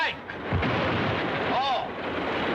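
A dynamite blast gives a loud, sustained, noisy roar that fills the whole moment without a sharp opening crack, and a voice is briefly heard within it.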